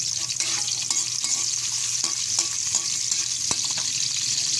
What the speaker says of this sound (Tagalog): iprito muna natin yung carrot